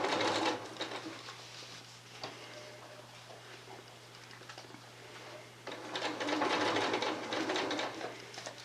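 A sewing machine stitches a curved half-moon quilt seam, its steady motor hum running throughout, with louder stitching bursts at the start and near the end.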